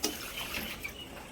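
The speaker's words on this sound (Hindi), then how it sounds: "तो अब पौधों में पानी दे दिया," Water poured onto potted plants on a home balcony, a steady close splashing and trickling wash that runs continuously without any voices.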